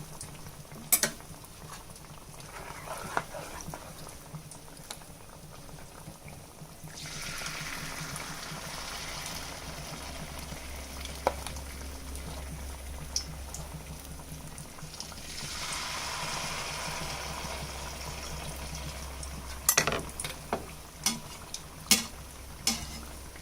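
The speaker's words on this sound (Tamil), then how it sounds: "பாருங்கள் இந்த அளவுக்கு குட்டி குட்டியாக பபுள்ஸ் வர அளவு உங்களுக்கு ஆயில் வந்து ரொம்ப ஹீட்டு கம்மியாக இருக்கணும்" Wheat flour malpua batter fries in oil kept at low heat, giving a faint, steady fine bubbling sizzle that swells in places, broken by occasional light clinks of a utensil.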